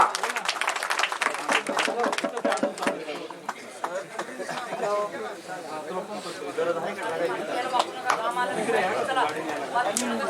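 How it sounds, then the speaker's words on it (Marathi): A crowd claps at an outdoor village kushti wrestling akhada, with dense rapid applause early on settling into constant loud chatter and murmuring voices. "टाळ्या करा."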